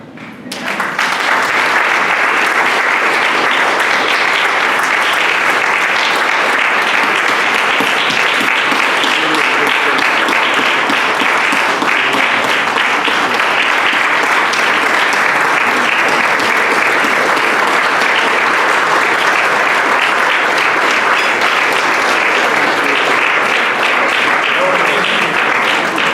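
Sustained applause and cheering from an audience at a Rotary meeting, a dense, steady roar of clapping and voices that stays loud and unbroken for the whole stretch.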